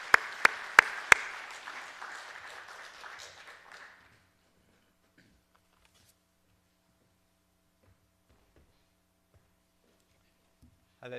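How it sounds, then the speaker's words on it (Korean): A church congregation applauds to welcome visiting missionaries: a burst of clapping opens with a few sharp, loud claps, then fades out over about four seconds, leaving near silence in the room. "박수로 한번 잠깐 환영하겠습니다"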